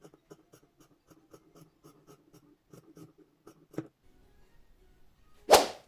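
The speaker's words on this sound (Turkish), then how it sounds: "Şimdi bunu kesip ayıralım. Ekstra dikiş payı vermiyorum. Çizgilerden kesiyorum." Scissors snip steadily through fabric along drawn lines while a blouse back piece is cut out, giving a run of soft, evenly spaced close cuts, then a single louder rustle or thump near the end.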